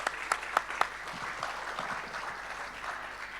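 An audience at a conference panel session claps in steady, sustained applause for the panelists, with a few sharper claps standing out at the start.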